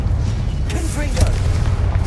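A Confringo blasting spell exploding in Hogwarts Legacy, a heavy low boom under a steady rumbling battle din, with a short whooshing sweep and a voice speaking over it.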